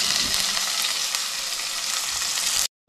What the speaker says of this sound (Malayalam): ഉള്ളി എങ്ങനെ ഇടണം കാണിച്ചു